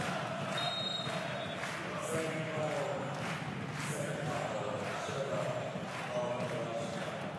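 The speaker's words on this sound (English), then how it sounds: "Crowd on their feet, making noise." Steady, loud basketball crowd roar fills an indoor arena during a Basketball Champions League game, with voices blending into continuous noise and occasional louder swells throughout.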